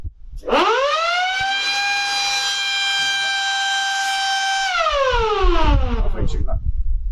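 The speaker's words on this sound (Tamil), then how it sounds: "இந்த சைரன் எப்படி ஒர்க் ஆகுதுன்னா ஜஸ்ட் ஒரு ப்ரெஸ்" An electronic security lock alarm siren whoops up from silence, holds a loud steady wail for several seconds, then winds down, with brief noise afterward.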